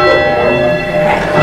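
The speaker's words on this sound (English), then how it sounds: "It's a really little bell, and you're very strong." A small church bell in the Hingham Memorial Bell Tower rings close and loud, its bright sustained tone with layered overtones hanging throughout, without any talk over it.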